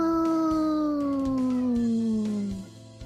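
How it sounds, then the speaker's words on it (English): A cat meows once in a single long, drawn-out cry that slides steadily downward in pitch. It is loud and close, then fades out at the end against a faint background hum. "I think you might have heard Ozzy meowing while that was going on as well."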